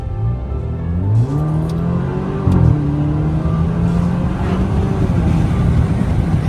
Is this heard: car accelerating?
yes